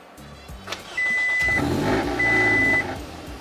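A car fitted with a Tsudo race header exhaust cranks and fires up, settling into a loud, raspy idle that swells again partway through, close to the listener with no talking.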